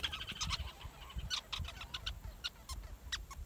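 A large colony of sociable weaver birds at their massive communal nest gives sharp, repeated distress calls and chatter, many overlapping chirps in quick irregular bursts, fairly faint and close overhead.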